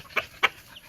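Two short clucks from a broodcock rooster, close by, spaced about a quarter second apart over faint background noise on a small farm.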